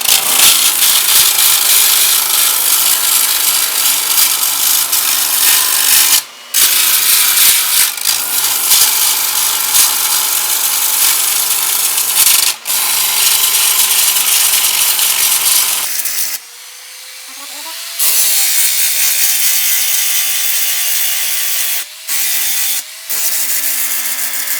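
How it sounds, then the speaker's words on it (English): An 8-inch bench grinder with a fresh grinding disc wears down a weld bead at reduced speed, a loud continuous abrasive hiss broken by several short gaps where the work lifts away, then a spin-down whine before grinding resumes. "put a brand new stone or a brand new grinding disc on my 8-inch"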